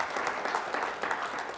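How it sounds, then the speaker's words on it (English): Faint audience applause after a lecture on Russian military strategy, a soft continuous patter heard from a distance. "Please give a round of applause."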